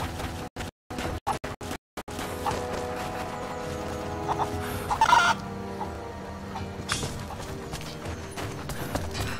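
Chickens cluck repeatedly in the game Rise of the Tomb Raider, mixed with game ambience and faint hoof-like clopping after a few short choppy bursts at the start. No one speaks.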